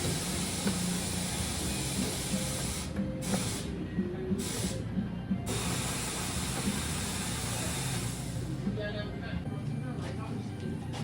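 Soapy water hisses from a spray bottle onto a tire to trace a leak, in long continuous bursts broken by short pauses, close and fairly loud, with someone talking faintly in the background.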